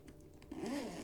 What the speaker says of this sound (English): it's got a nice little zip on the back